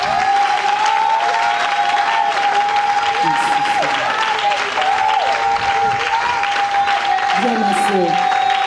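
A church congregation claps and cheers for Jesus during a worship service, steady dense applause filling the hall throughout, with shouts and voices rising over it and a sustained sung or shouted tone running through.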